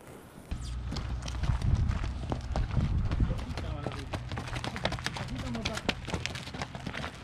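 A ridden horse's hooves clip-clop in a steady rhythm close by during a trip to school, under continuous talking between people.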